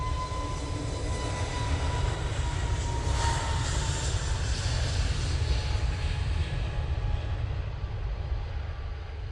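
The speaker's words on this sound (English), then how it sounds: "that EasyJet is off to Lisbon using their A320neo" An EasyJet Airbus A320neo takes off from Manchester Airport with a loud, continuous engine roar and deep rumble, a thin whine running through it that peaks in intensity around the middle before easing slightly.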